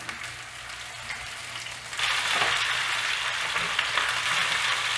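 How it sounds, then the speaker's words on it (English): Steady, loud sizzling of chicken frying in a hot skillet, a crackling hiss that jumps louder partway through and holds. "Can you hear that sizzle?"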